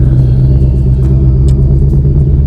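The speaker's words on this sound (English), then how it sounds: "We're gonna take this sucker for a test drive, make sure it's all good." A 2020 Ford Shelby GT500 with a suspension fault rumbles steadily on a test drive, a loud, constant low engine and road drone filling the cabin with no breaks.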